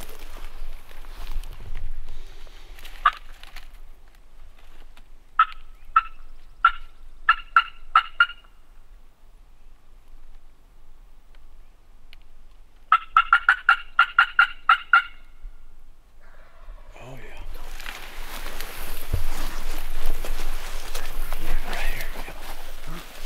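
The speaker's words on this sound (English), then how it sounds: "you hear a turkey gobble?" Distant gobbles from an Osceola wild turkey gobbler in Florida ring out in quick rattling bursts, two clear calls separated by quiet, with outdoor rustling afterward.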